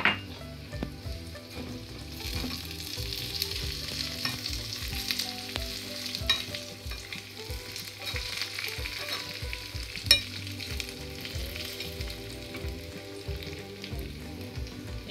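Onion and chopped dried red chillies sautéing in a pan for spicy sambal make a continuous low sizzle with a steady run of stirring scrapes and taps throughout, close and fairly quiet, with no talking.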